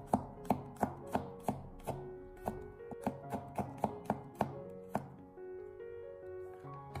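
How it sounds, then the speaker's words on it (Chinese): A kitchen knife chops garlic cloves into thin slices on a cutting board, a steady run of close, crisp taps that slows and thins toward the end, with no talking. "准备几个大蒜，把它改刀切成薄片"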